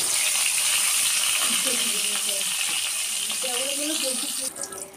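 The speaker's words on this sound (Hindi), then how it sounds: "तेल अच्छे से गर्म हो चुका है, एक एक करके बैगन दे दूंगी और फ्राई कर लूंगी।" Brinjal slices frying in hot oil give a loud, steady sizzle and crackle that fills the whole stretch, close by, with a voice faintly under it and a few clinks near the end.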